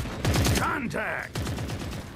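Rapid bursts of gunfire crack out during a firefight in The Forever Winter, with a short flurry of shots near the start and more after a brief vocal sound in the middle.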